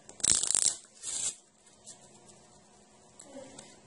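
A deck of playing cards is shuffled by hand at close range, with a loud riffling burst followed by a second shorter riffle, then quieter handling.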